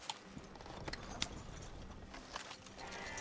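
Horse hooves clopping as a horse-drawn carriage moves along in the video game Red Dead Redemption 2, a soft irregular clip-clop at moderate distance over a steady rolling background, fairly quiet.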